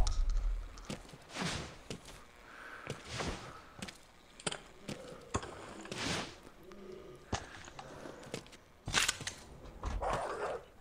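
Dogs bark in a VR zombie shooter, short yelps and growls scattered in bursts over about ten seconds, mixed with game noise and footstep-like thuds.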